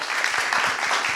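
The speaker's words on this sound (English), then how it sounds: "Big applause." A short burst of dense audience applause at a tech meetup in Paris as a presenter comes on stage, steady clapping from many hands with a few low thumps underneath.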